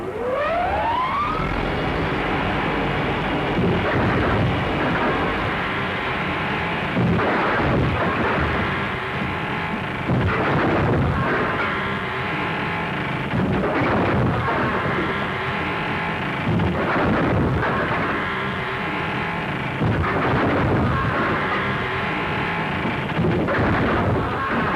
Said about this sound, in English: Firing at him from the window.